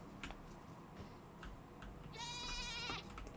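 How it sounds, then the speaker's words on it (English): A goat in a video game lets out one wavering, quavering bleat late in the clip, faint over a quiet game background with a few soft clicks. "I hear a goat."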